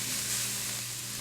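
Garlic thrown into a hot pan of stir-fried lo mein vegetables, a brief, bright sizzle that hisses steadily at moderate loudness, close by, with no speech.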